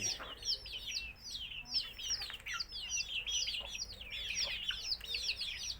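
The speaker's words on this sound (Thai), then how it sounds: "มาดู ไก่กิโลของย่าเนาะ" Free-range village chickens raised for sale in Thailand, with repeated overlapping clucks and chirpy calls from several birds close by, a steady busy chatter across the whole stretch with no talking.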